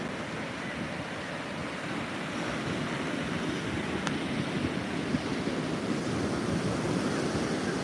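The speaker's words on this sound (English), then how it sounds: "And water is just pouring into the inlet." Turbulent ocean water surges into a narrow coastal inlet during a hurricane flood, a constant broad roar of surf and wind that holds steady at moderate loudness with no voices.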